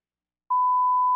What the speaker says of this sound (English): we should start beeping those out